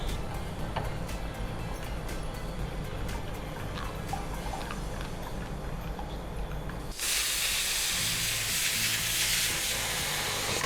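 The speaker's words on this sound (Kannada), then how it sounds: "ಸಾಧಾರಣ 6-7 ವಿಸಿಲ್ ಮೇಲೆ ಆಯ್ತು" A pressure cooker on a gas stove, cooking safflower seeds for kheer, hisses loudly and continuously as it vents steam, following a stretch of quieter kitchen noise.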